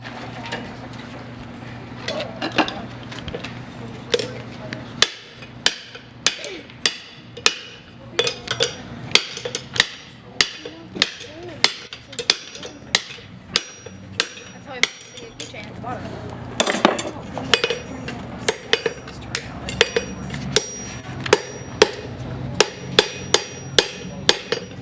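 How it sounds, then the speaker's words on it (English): A hammer drives a tapered punch into a hole in hot iron on an anvil, ringing out as dozens of sharp metallic blows in quick, steady rhythm, close and loud, after a brief stretch of quieter shop noise. "I'm going to drive this into that hole, and it's going to stretch the diameter of that hole out"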